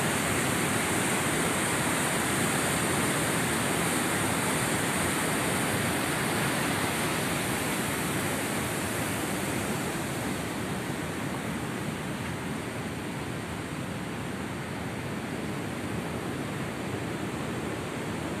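Water pours steadily over the Đá Lòng stone dam on the Ly River, a loud, continuous broadband roar like a waterfall that stays constant throughout with no voices.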